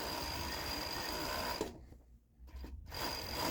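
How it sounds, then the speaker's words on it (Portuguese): An overlock serger stitches the side seams of a three-tier dress in a fast, even whirring buzz, close and steady, pausing briefly midway before the machine starts up again; no one speaks. "Vou estar passando o overlock agora, gente, aqui nas laterais da peça"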